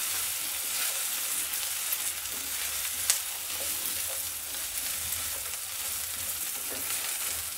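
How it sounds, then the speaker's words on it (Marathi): Masala and dried coconut roast in a pan, giving a steady close sizzle and crackle with soft stirring scrapes and one sharper click, unbroken and without talk. "छानपैकी आपल्याला मसाला आपला भाजून घ्यायचा आहे।"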